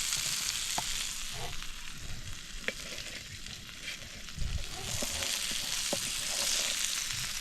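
Mackerel (bangda) fries in a pan over an outdoor wood-fired chulha on a farm bund, giving a steady, even sizzle with a few faint ticks and pops and no voices.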